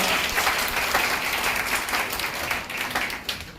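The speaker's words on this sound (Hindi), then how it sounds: "एक बार तालियों से सूचित कर दिए" An audience applauds at a Hindi Day celebration in a medical college, a steady, dense burst of clapping from a crowd lasting several seconds.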